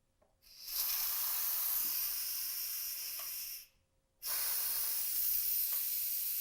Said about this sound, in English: I'm going to do a steam release, which is dangerous but super fun